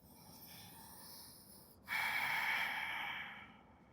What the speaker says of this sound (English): find a rhythm of breathing that works best for your body here today